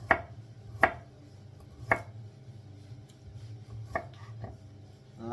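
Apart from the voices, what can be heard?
knife thinly cutting cauliflower stalks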